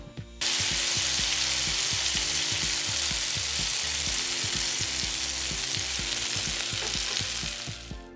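Mangalitsa pork steak searing on a hot cooking surface, a loud steady sizzle and crackle running throughout, with rhythmic low knocks underneath and no talk.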